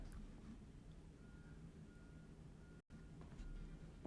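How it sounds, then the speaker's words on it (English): Steady repeated electronic beeping from a vehicle reversing outside, faint and distant over a low engine hum, with a brief dropout near the end. "There's a beeping outside."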